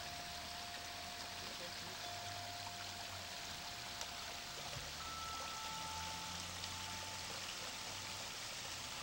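A homemade backyard waterfall gives a steady, even rush of flowing water, moderately distant and unbroken for the whole stretch.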